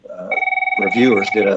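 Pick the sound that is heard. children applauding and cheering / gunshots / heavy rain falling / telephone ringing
telephone ringing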